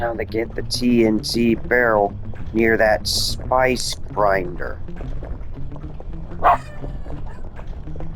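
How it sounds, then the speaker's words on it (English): A dog barks and yips in the background behind someone narrating gameplay from Sly 2: Band of Thieves. The barks come as a rapid series of close, loud yaps under his talk, followed by a single sharper yelp. "That's just my dog, don't worry about him."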